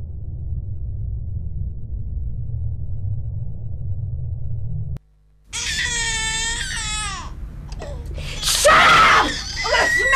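A child screams and sobs in a public information film, the loud, wailing cries arriving after a low rumbling stretch and a brief silence, rising to a harsh peak near the end.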